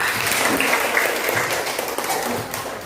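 Schoolchildren in a classroom clap for a classmate, a brief, even burst of applause from the class that holds steady and starts to fade.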